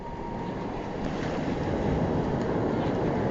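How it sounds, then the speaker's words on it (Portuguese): Water rushing over and washing away sand, a steady broadband wash of surf-like rushing with wind noise, close and loud throughout, swelling slightly partway. "a água vai levar a areia, vai destruir, vai derrubar, vai acabar com tudo"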